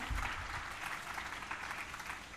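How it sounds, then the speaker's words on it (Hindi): Audience applause at a religious gathering: steady, dense clapping from a crowd that fills the whole moment, with no talking over it. "ताली बजाकर इनका अभिनंदन करें।"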